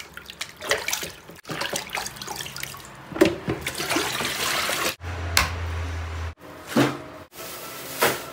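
Beef tenderloin is rinsed under a running kitchen tap, a steady splash of water into a sink that swells and breaks off in short bursts, with a deeper gush partway through.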